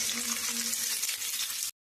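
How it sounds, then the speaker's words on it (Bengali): Chopped onion drops into hot mustard oil in a wok and sizzles with a steady, dense, close hiss for under two seconds, then cuts off abruptly. "এবার তেলটা গরম হয়ে গেছে, এবার এর মধ্যে আমরা দিয়ে দেবো হচ্ছে কাটা পেঁয়াজ"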